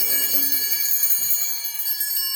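Harness bells on a horse's collar ring in a steady, continuous shimmering jingle, bright and fairly loud, with no voices over them.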